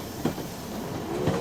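London Underground Central Line train running, with a steady rumbling roar and two rhythmic clattering wheel bumps over rail joints, close and continuous with no talk.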